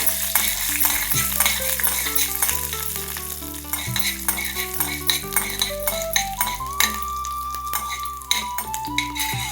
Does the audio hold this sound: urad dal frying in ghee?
yes